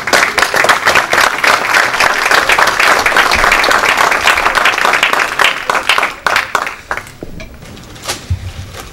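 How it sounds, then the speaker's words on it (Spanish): Loud, sustained applause from the audience at an engineers' medal ceremony of the Colegio de Ingenieros del Perú in Lima, dense clapping that thins into scattered claps toward the end. "Un fuerte aplauso, por favor."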